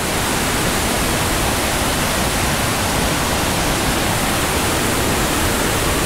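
Mae Sa waterfall in Doi Suthep National Park, Chiang Mai, Thailand pours in a dense, unbroken roar of rushing water, loud and close with no voices.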